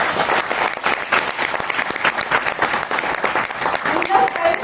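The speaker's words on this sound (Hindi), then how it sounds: "जोरदार ताली होना चाहिए दोस्तों" Loud audience applause at a business gathering, sustained crowd clapping throughout with some voices underneath.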